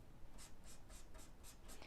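A silver metallic pen colours in a paper scissors shape for a planner page, seven soft, evenly spaced scratchy strokes, close and quiet with no talk.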